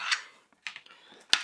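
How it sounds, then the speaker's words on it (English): Keys pressed on a thick metal keyboard of an industrial 386 PC, giving a few separate sharp clicks with quiet gaps between them, fairly close and with no voices. "So let's have a look at this keyboard."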